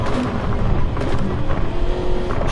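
A Grade 2 Honda NSX race car engine in Gran Turismo 7 drones and revs close up, its pitch rising and dipping as the car brakes and accelerates around the track, with no speech.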